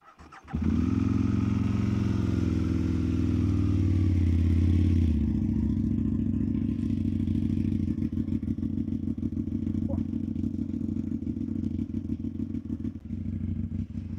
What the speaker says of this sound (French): Procédure de démarrage, on appuie sur le coupe-circuit.